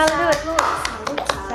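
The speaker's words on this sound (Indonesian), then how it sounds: "Bagus sekali, mari kita beri tepuk salut untuk Yosefin." A few sharp claps come in a chanted rhythm, mixed with a classroom of students speaking and singing in unison.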